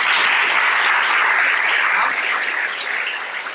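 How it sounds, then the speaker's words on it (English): An indoor audience claps for panelists at a luxury real estate sales masterclass, a dense burst of applause that holds steady and then thins slightly, with some voices mixed in. "let's give a round of applause for the panelists so far"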